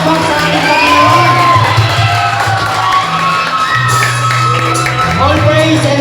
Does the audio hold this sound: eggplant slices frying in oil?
no